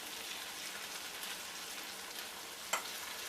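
Floured beef pieces for stew fry in a pan with a steady, quiet sizzle like light rain, broken by one brief clink near the end.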